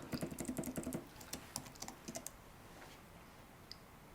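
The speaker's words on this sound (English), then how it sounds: "Apologies if my typing's really loud, Gareth." Fast bursts of close, quiet clicky typing on a computer keyboard, dense at first, then scattered keystrokes trailing off.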